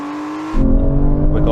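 An Aston Martin Valkyrie, Vanquish and V12 Vantage launch together in a drag race. A steady engine note suddenly swells into loud, close revving that keeps building as the cars pull away.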